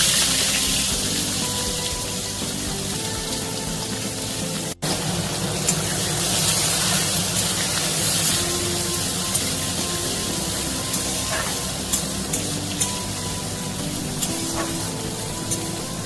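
Chopped onion drops into hot oil tempered with cumin seeds and a dried red chilli for an egg poach curry, giving a steady, close hiss of frying that runs throughout with one brief gap near the middle.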